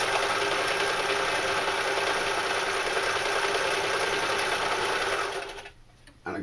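A sewing machine runs a zigzag stitch, set to stitch width 2 and length 2, while sewing a knife carrier. It hums and whirs steadily for several seconds at close range, then stops abruptly, and no one speaks.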